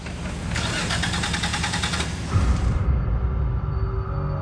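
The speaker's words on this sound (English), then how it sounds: "Like the turn of an ignition switch." Vehicle engine cranking with a rapid starter chatter, then catching and settling into a steady, close, loud idle rumble.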